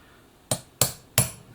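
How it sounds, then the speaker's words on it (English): Three sharp metallic hammer taps, evenly spaced, from a small lightweight hammer driving a 2mm punch through a pattern cam stack drive gear of an Elna Supermatic sewing machine, close and clear with no talk. "a little lightweight hammer should be able to just"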